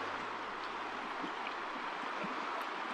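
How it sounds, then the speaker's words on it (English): Trout stream flowing through woods in the San Isabel National Forest, a steady broadband rush of running water with faint low hum beneath, no voices. "Next to the, I guess it's a trout stream."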